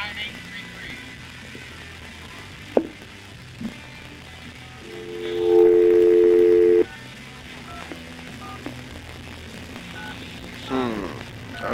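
Telephone keypad dialing for phone calls produces a bright, sustained electronic tone burst in the middle, set against a quiet room with faint background noise and a few soft clicks.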